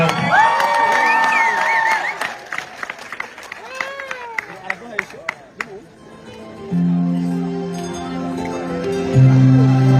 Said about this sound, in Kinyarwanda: Murakoze cyane tubakomera amashyi